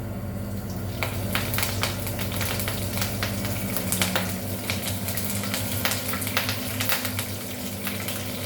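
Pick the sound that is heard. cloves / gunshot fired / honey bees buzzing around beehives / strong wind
cloves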